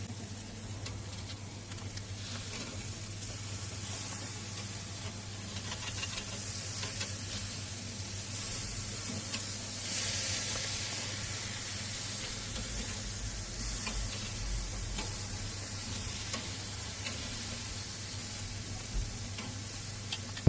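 Thin Korean pork steaks sizzle steadily on a Weber Mastertouch charcoal grill just after flipping, a close, continuous hiss with occasional crackles and a low background hum, no voices.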